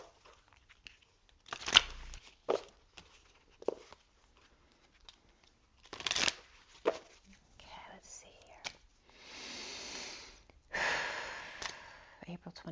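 Messages of Love oracle cards are shuffled in short soft riffles and rustles close to the mic, interspersed with quiet whispering and breaths in a hushed room.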